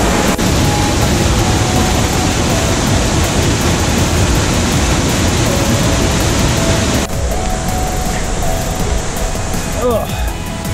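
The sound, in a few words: waterfall in the Columbia River Gorge, Washington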